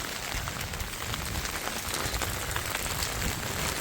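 Heavy rain pours steadily and densely in Surat, India, a constant loud hiss of drops hitting surfaces with no break.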